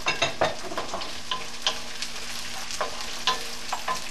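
Peas tip into a pan of sizzling potatoes, a steady frying hiss broken by repeated light scrapes and stirring clicks close by.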